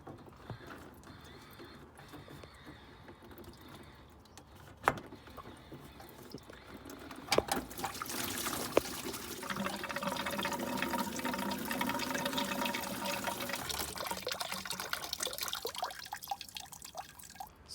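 Coolant drains from a car's removed bottom radiator hose into a tub set beneath the vehicle, a steady splashing, trickling pour that starts sparse with a few drips and grows into continuous liquid noise, with no talking.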